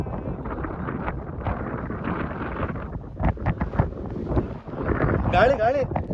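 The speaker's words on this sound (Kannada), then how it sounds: "ಗಾಳಿ" Strong wind gusts buffet the microphone on a rocky hilltop trek near Chikmagalur, a continuous roaring rush that swells and fades, with people talking briefly near the end.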